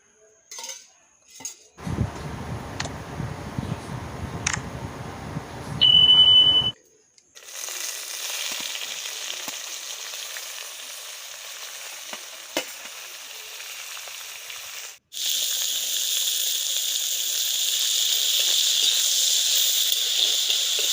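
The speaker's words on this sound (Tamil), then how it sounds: "இப்போ இதை மாற்றிட்டு நம்ம இந்த பூவை வதக்கிக்கலாம்" Banana flower sautéing in a little oil in a pan for a pickle, giving a broad steady sizzle and hiss that rises louder later on, with a few faint utensil clinks and a brief bright tone early.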